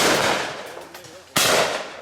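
Two loud, sharp shotgun blasts ring out at a simulated game day shoot, the first fading into a long echoing tail before the second cracks out about a second later.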